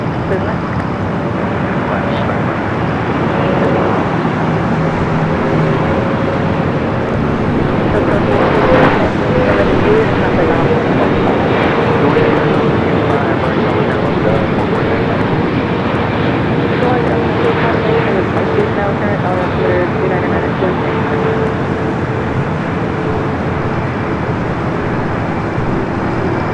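A China Airlines Boeing 777-300ER roars steadily through its takeoff run at Los Angeles International Airport, a loud continuous jet rumble under intermittent radio and commentary voices.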